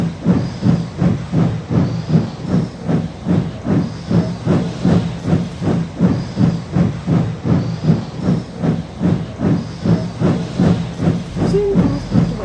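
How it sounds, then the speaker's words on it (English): Animated steam locomotive puffing steadily, a loud rhythmic chuff with hissing steam repeating evenly throughout, no talk. "Soon Thomas puffed away to collect his coaches."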